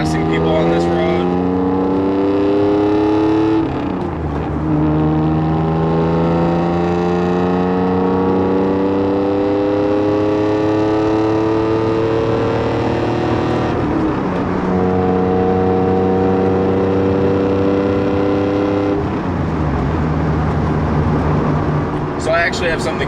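An Acura NSX exhaust droning loud and close while driving, rising through gears with repeated climbing tones and drops at each shift, with talking over it.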